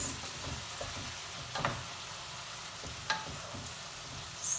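Tomato stew being stirred in a pan, with a soft continuous sizzle and a few light scrapes and clinks of the spoon, close but quiet, with no talking.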